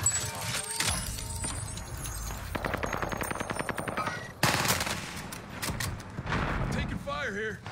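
Gunfire in a battle royale video game: rapid bursts of automatic weapon fire and single shots rattling in quick succession, loud and close, with game voice callouts and effects heard in the mix.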